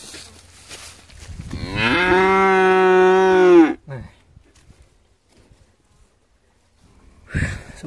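A Nelore calf on a farm gives one long, loud, close moo that lasts about two seconds, followed by quiet with faint scuffling and a brief sound at the end.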